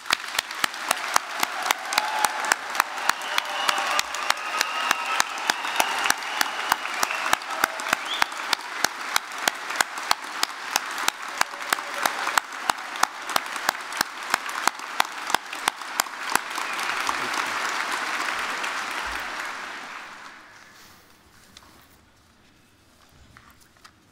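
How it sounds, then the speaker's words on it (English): Families and friends at a degree ceremony in Belfast give sustained applause with rhythmic unison clapping that keeps a steady beat for about twenty seconds, then fades into scattered claps and quiet room noise. "let's give this amazing group of people a thunderous round of applause"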